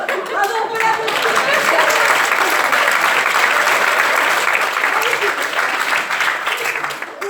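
Audience applause at the Fourres de Rire 2016 comedy show, a dense, loud wash of many hands clapping that holds steady for about seven seconds and tapers slightly at the end.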